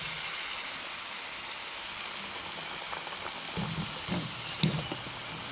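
Green plantain slices frying in oil, a faint, steady low hiss of bubbling oil throughout, with a few soft taps and clinks near the end, distant and quiet.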